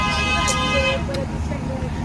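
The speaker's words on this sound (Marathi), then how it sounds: "का हॉर्न वाजवायचा होता ह्याला?" A vehicle horn sounds in a sustained, steady honk, close by, over rumbling traffic noise.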